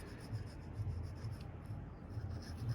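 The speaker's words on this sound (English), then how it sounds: "I use a Motion Pro gasket scraper. That works really well. It's made of brass, so it doesn't cut up the aluminum case" A brass Motion Pro gasket scraper rasps old gasket material off an aluminum engine case in short repeated strokes, a quiet, close scratching and rubbing that continues steadily, with no voices.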